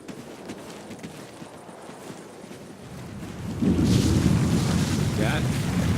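Wind in the Call of Duty Ghosts game, a steady rushing gust that swells into a louder, heavier roar midway, with a brief faint voice-like tone near the end.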